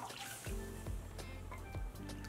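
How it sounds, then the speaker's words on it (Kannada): Water poured onto roasted semolina in a pan while making rava payasa, with several short splashy bursts and dribbles close by, no talking. "1 ಬಟ್ಲು ರವೆಗೆ 4 ಬಟ್ಲಷ್ಟು ನೀರು ಹಾಕೊಳ್ಳೋಣ."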